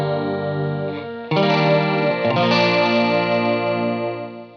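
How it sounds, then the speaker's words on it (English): An electric guitar runs through a Pitchfork pedal on its detune setting, giving a shimmering chorus effect as chords ring out, change twice and slowly fade, with no talk. "I get a really good, really cool sounding chorus"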